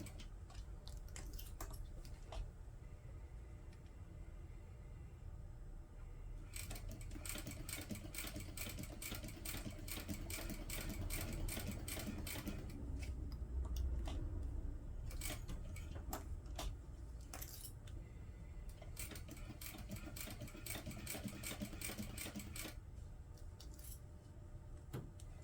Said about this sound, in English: If your vinyl is sticky, you may find it easier to use a Teflon foot on your sewing machine.